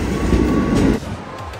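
A commuter train rumbles past loudly nearby in Jakarta near Dukuh Atas, a heavy low roar that cuts off abruptly partway through, leaving quieter background noise.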